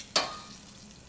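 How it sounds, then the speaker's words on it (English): Pork cooks fat side down in a pan and gives off a brief sharp sizzle burst that fades into a soft steady frying hiss. "Now I'm just cooking the pork on the fat side to get it crisped up a little bit"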